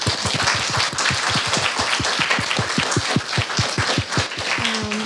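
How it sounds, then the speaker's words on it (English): An audience applauds after a keynote lecture on digital research, with many sharp claps in a steady, close, rhythmic patter and a short voice near the end. "Round of applause,"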